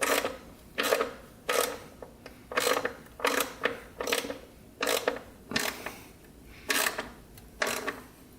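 Repeated ratcheting clicks while bolts are tightened on a Yamaha Raptor 660R ATV, about a dozen short bursts coming in a quick, uneven rhythm, close and fairly loud with no talking.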